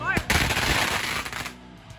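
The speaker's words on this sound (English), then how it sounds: "Justice attached a stack of firecrackers to his head and lit the wick." A stack of firecrackers goes off on a wrestler's head during a deathmatch wrestling bout, a loud rapid crackling burst of pops that rattles on for over a second, then fades.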